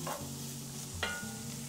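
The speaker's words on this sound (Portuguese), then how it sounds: "Eu já fritei a carne, eu puxo tudo pro cantinho" Beef frying in an iron pot for carreteiro, a steady sizzle with stirring scrapes and a brief clank of a utensil, close and continuous.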